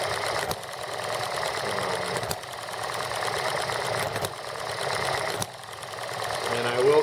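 A small model engine runs steadily and loud, a continuous buzzing drone with a few brief dips, close by with no talk over it.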